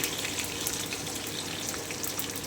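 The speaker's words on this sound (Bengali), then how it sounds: "এবারে আমি কুচনো পেঁয়াজটা দিয়ে দিচ্ছি" Chopped onions fry in hot oil with garlic in a pan, a steady, fairly quiet crackling hiss that holds even throughout, with no talking.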